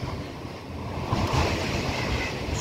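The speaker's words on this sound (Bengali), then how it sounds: "দেখুন দমকা হাওয়ার" Gusty wind blowing outdoors in stormy weather, a broad steady roar that swells and surges in strength partway through, with no talking.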